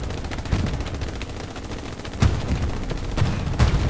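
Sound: gunfire in the video game Hell Let Loose

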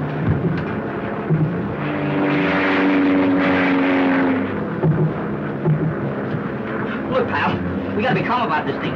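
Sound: airplane propeller engine

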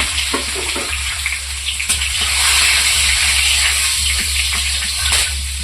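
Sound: whole garam masala sizzling in hot mustard oil

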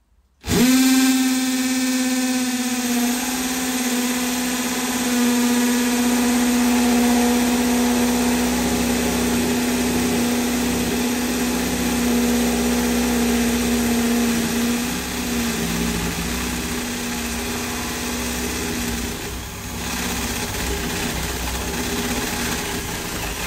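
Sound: electric drill drilling a hole in a door for a lock

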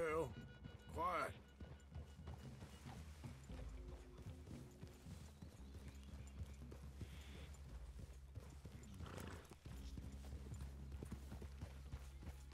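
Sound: horse hooves in video game Red Dead Redemption 2

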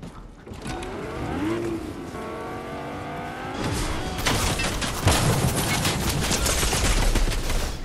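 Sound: goo gun firing in Fortnite video game

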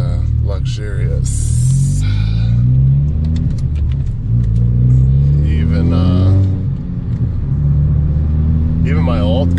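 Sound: car engine while driving

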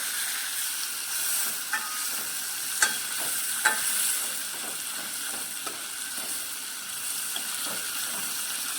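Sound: bitter gourd sautéing in pan

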